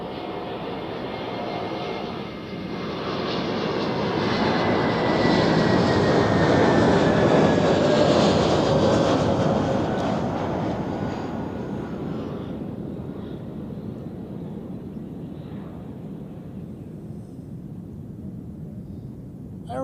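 An Airbus A321neo landing at Zurich Airport, a broad roaring jet rush that builds to a loud peak mid-clip and then fades to a steady distant rumble, with no talk.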